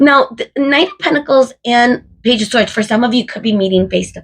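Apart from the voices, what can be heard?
None of the usual background noises is heard.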